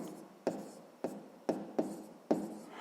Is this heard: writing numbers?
yes